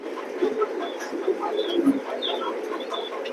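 Racing pigeons in a loft give soft, low cooing calls scattered over a faint background while someone talks nearby.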